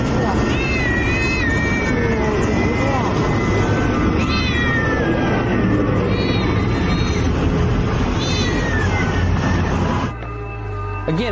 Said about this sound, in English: The Chinese government has also confiscated some huge but unknown number of house cats from people's homes, thrown them in bags